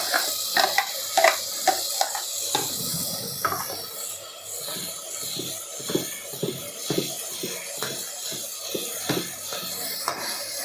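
Two kambu millet dosa batters being stirred together, a series of soft wet scraping and slapping strokes in an irregular rhythm, close and moderately loud over a faint background hiss.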